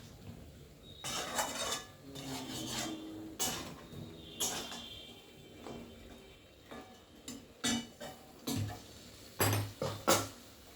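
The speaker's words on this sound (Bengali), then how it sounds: "দিয়ে আবার নেড়ে চেড়ে আমি এটাকে আবার কষতে দেবো।" Mutton being cooked down in a pan with a little added water, with irregular scraping and clinking of a spoon against the pan. Each stroke comes as a separate close stir, with no talk.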